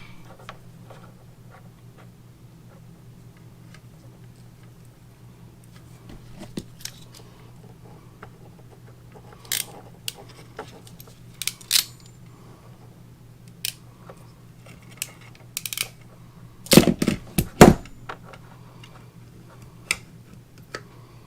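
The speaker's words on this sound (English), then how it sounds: "Take just a minute here to screw it together." Small metal clamps are screwed together by hand while an RV propane detector is installed, giving soft, sparse ticks and clicks. A brief cluster of sharper clicks comes near the end, over a low steady hum.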